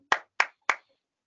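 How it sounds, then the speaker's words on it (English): Three sharp, evenly spaced hand claps from a single person, close and crisp with brief decays, followed by silence. "can I just clap for a while?"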